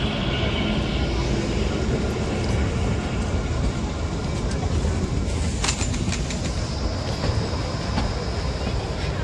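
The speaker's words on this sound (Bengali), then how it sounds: "ধরমপুর হিমাচল প্রদেশ, হিমাচল থেকে ছেড়ে দিল আমাদের ট্রেন।" Kalka-Shimla toy train rolling away from Dharampur in Himachal Pradesh, a continuous close, loud rumble of wheels on track with clickety-clack rail joints and a few sharp metallic clicks, heard from inside the carriage.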